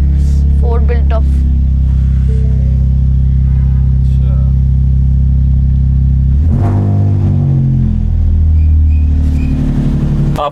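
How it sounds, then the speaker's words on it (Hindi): A Ford Raptor pickup engine rumbles loudly and deeply throughout, with a sharper surge of revving partway through, while people talk over it nearby. "ये स्टार्ट करके चेक करें, स्टार्ट करके चेक। Ford Raptor"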